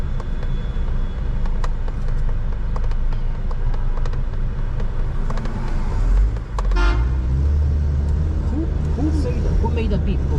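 A loud car horn honks from a vehicle behind while driving on a New Jersey expressway toward Philadelphia, one brief blast heard over steady road and engine noise inside the car, with people talking.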